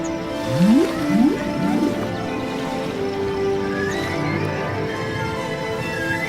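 Whale calls sound loud and close, rising and falling moans and sliding whoops repeating over a steady underwater hum with no talk.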